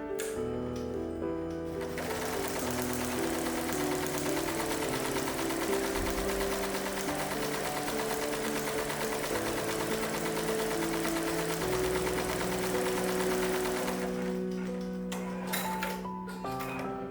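A sewing machine runs steadily for about twelve seconds as it stitches test lines to compare bobbin and upper thread tension settings, the motor hum and needle clatter starting up, holding a continuous rhythm, then stopping near the end.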